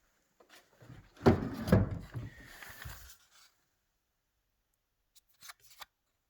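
A drawer in an old pine cupboard being pulled and pushed, a close wooden scraping slide lasting about two seconds, followed later by a couple of faint light knocks, with no speech.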